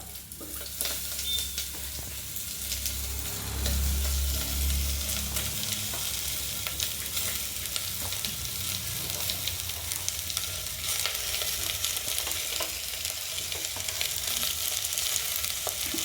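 Onions fry in beef fat for a beef stew, a steady, soft sizzle with some stirring, running continuously without talk.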